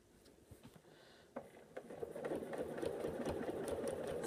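A sewing machine runs during free motion quilting of a fern feather filler design, starting quietly with a few soft clicks, then building into a steady, close, continuous motor whir with rapid stitching hum.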